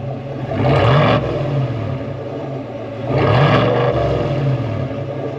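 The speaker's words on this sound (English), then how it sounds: "can you give us a little rev? I can give you a rev." A 2022 Chevy Silverado ZR2 pickup's engine revved twice from idle. Each blip climbs to a loud, throaty roar, then drops back to a rumbling idle between the two bursts. No one speaks.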